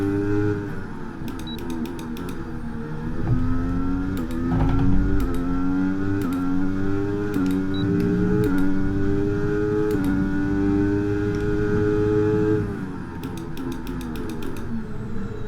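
An F1 car engine in the racing game F1 23 screams through repeated upshifts, its pitch climbing and dropping in a steady stair-step pattern, loud and continuous for the whole stretch with faint clicking sounds now and then.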